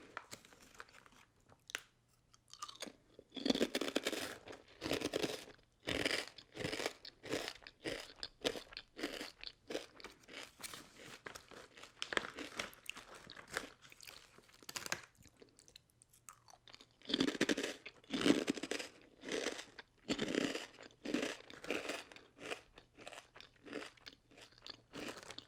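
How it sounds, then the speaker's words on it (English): Close-up, binaural crunching and chewing of candy, with repeated bursts of crisp crunches and wet chewing, loud near the mic and alone without talk. "I'm just going to eat a couple more for ASMR reasons."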